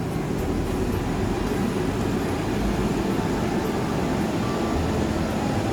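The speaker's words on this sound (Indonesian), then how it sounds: "Kereta api Singasari saat ini masuk stasiun Wates." Steady, loud rumble heard from inside an executive carriage of the Singasari train as it pulls into Wates station, with continuous low rail noise and carriage hum and no speech.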